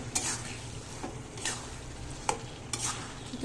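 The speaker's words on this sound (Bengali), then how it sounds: "মাছটা দিয়ে দিচ্ছি এটাকে এখন ভালো করে একটু কষায় নিতে হবে" Fish being stirred in a pan with melted tomatoes, sizzling and frying quietly while a spatula scrapes the pan in several distinct strokes.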